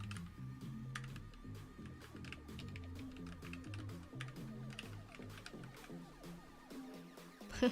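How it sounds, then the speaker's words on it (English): Mechanical computer keyboard keys clack in a fast, continuous stream of close typing, steady throughout with a slight rise near the end, alone without speech. "Keyboard."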